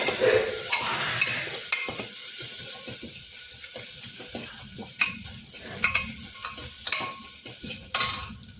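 A spoon stirs masala and black pepper in a hot pan, giving a continuous sizzle broken by crisp scraping strokes and sharp clacks against the pan, near and clear.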